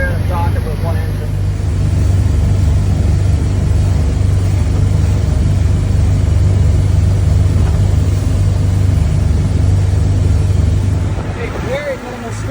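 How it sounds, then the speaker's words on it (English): Boat engine idling in a steady, loud low drone while the vessel runs on one engine after losing the other, slowing to dock in 15 to 20 knots of wind, with the rumble easing near the end. "We're going to dock this boat with one engine."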